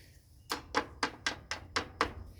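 Hard knuckle guards on motorcycle riding gloves knocked together six times in a steady rhythm, giving sharp, close, fairly quiet plastic taps.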